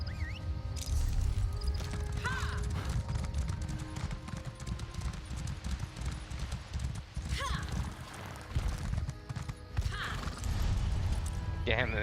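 A horse ridden in Elder Scrolls Online clip-clops steadily over a dense, loud bed of game ambience, and several short whinnies break through along the way.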